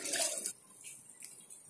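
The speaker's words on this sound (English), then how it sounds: "add water little by little" Water pours into a cooking pan for upma in a short splashing burst, then stops, followed by faint quiet trickles and drips nearby.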